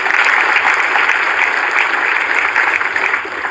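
A hall audience at a National Youth Day event in Lucknow, marking Swami Vivekananda's birth anniversary, breaks into steady, dense applause to welcome minister Girish Chandra Yadav. The clapping stays loud and even throughout, with no talk over it.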